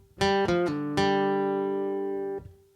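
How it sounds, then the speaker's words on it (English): Four quick plucked acoustic guitar notes in succession, with a pull-off to the open D then back to the open G, the last one ringing out and slowly fading. "pull off to the open D, and then back to the open G"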